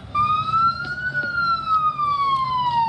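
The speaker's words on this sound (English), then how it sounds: "So turning the siren back on," An electronic siren wails in one long, slow rise and fall, steady and fairly loud over a low rumbling background.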